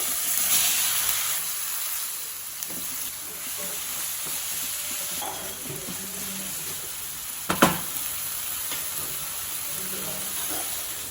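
Potato pieces frying in hot oil with mustard seeds, cumin and hing. A steady, fairly loud sizzling hiss runs throughout, with a brief clatter of the pan near the end.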